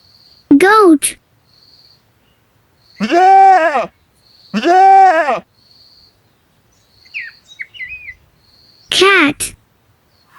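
A goat bleats several times in short, loud, wavering calls separated by silences, with faint bird chirps between them.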